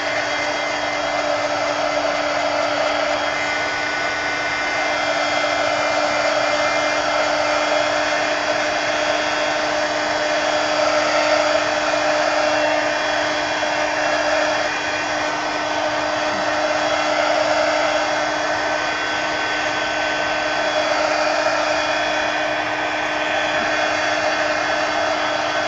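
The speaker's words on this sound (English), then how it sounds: "I'm going to take my heat gun and I'm going to pick each one up and kind of dry them" A heat gun blows hot air over mixed media planner inserts coated in matte medium, drying them with a steady, unbroken whooshing roar and a faint whine that holds close and even throughout, with no talking.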